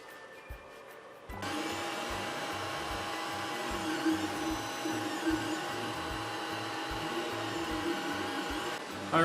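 An Anycubic i3 Mega 3D printer printing after bed levelling gives a steady mechanical whir with fan noise, under rhythmic low stepper pulses that continue throughout.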